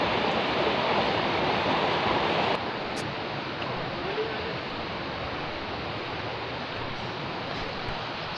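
Strong river current rushing at Gabaldon, a steady, loud broadband roar of flowing water that continues unbroken throughout, dropping slightly in level partway through.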